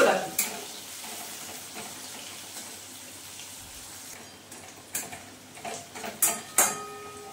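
Onion frying lightly in a pan makes a soft continuous sizzle, with a few sharp clinks and scrapes of a utensil toward the end, close by and without talk.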